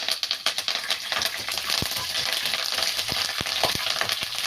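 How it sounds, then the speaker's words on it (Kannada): Green chillies and curry leaves fry in hot oil in a pan, giving a steady, close crackling sizzle with sharp pops and spits scattered through, alone with no voices. "ಈ ರೀತಿ ಚೆನ್ನಾಗಿ ಫ್ರೈ ಮಾಡ್ಕೊಳ್ಳಿ"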